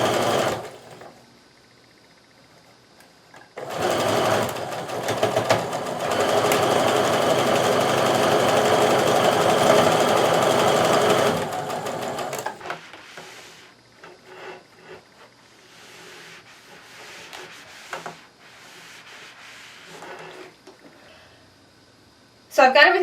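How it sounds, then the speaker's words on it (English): A sewing machine runs in one steady, loud burst of about eight seconds, stitching quilt pieces for a patriotic Stars & Stripes Quilt of Valor. Quieter handling sounds and soft speech come before and after it. "Bring it over to the sewing machine and we're going to sew again."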